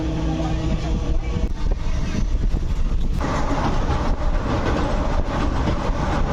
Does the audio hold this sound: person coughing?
no